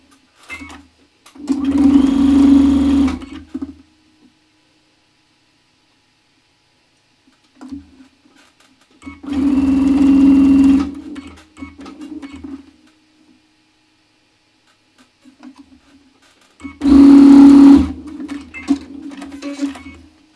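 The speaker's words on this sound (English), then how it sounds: "at this point, it is now time to sew together our rows" A sewing machine stitching crocheted rows together runs in three separate bursts of roughly two seconds each, with quiet pauses between them, close and fairly loud with no talk.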